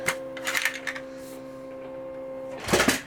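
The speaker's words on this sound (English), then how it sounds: "I'm cutting on my Cameo, so it's kind of making noises." Silhouette Cameo electronic vinyl cutting machine whirring with a steady tonal motor hum, broken by clicking, rattling bursts at the start and end.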